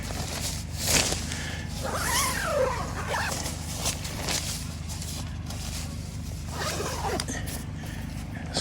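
Zipper on a tent door being drawn closed at a campground, several quick, scratchy pulls up close over a low steady background hum, with no voices.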